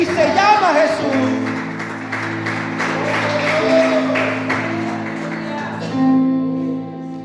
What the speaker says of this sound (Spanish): Dale fuerte el aplauso al que vive.